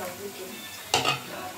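Onion frying in groundnut oil and palm oil gives a low, steady sizzle, broken by one sharp scraping stir just before the end.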